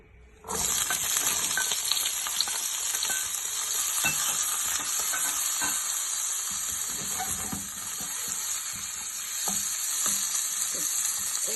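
Mixed yellow and green bell peppers hit the pan and start a loud, bright sizzle that holds steady, broken by small pops and the scrape of stirring, with no talking.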